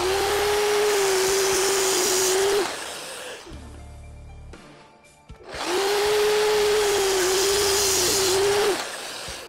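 A miter saw cutting the side wings off a wooden magnetic drill press table, heard as two loud, steady whining cuts of a few seconds each, separated by a quieter gap as the blade winds down.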